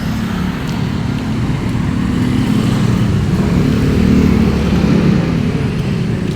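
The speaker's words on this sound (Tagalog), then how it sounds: "Traffic siya guys." Dense road traffic with cars and motorcycles droning steadily close by, a continuous engine rumble that thickens slightly midway, with no voices over it.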